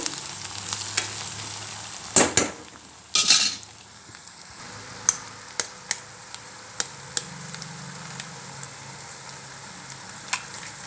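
Eggs frying in a pan with onions cooked golden, a steady soft sizzle running throughout with scattered sharp clicks and scrapes of stirring, plus a couple of louder clatters early on.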